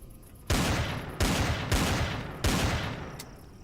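Heavy fortress guns firing in Empyrion: Galactic Survival during an assault on the Epsilon Fortress, four loud booming shots in close succession. Each blast is sharp and is followed by a long rumbling decay, with no talk over them.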